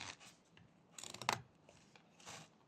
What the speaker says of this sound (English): We can cut this with a few V-cuts